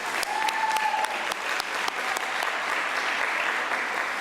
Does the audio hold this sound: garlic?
no